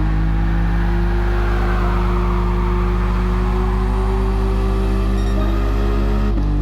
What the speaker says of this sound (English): they weren't the greatest drifts, but I just wanted to show you anyway